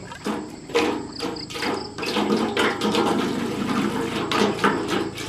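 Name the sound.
intermittent spring water flowing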